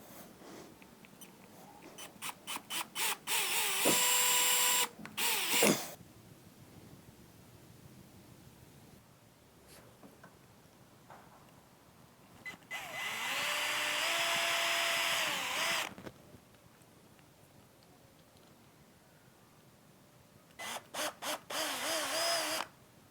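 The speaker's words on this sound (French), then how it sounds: "je vais utiliser une mèche de 2 mm 5 qui permettra de faire passer les clous" An electric drill with a 2.5 mm bit bores pilot holes for nails in wooden clothes pegs, whining in three separate bursts of a few seconds each. The pitch shifts as the motor speeds up and slows, with quiet gaps between bursts.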